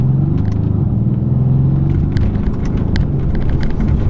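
A Mercedes C63s AMG Coupe's engine rumbles steadily in a deep, loud, continuous growl heard close up, with faint ticks and clicks over the low drone.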